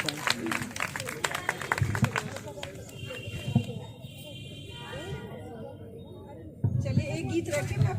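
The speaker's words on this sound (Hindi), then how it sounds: "ताली वाली बजाते रहो भाई।" Rhythmic group clapping from a crowd at a women's day gathering, strongest at the start and returning near the end, mixed with voices and singing.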